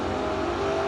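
A pickup truck and a Firebird launch side by side in a no-box drag race, engines roaring loud and steady at full throttle with a continuous high whine.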